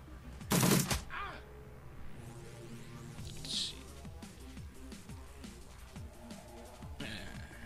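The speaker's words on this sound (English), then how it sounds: "He'll shoot you up." Gunfire in the video game Shadowrun Returns: a loud burst of shots opens the clip, followed by quieter scattered game effects and a brief later crackle.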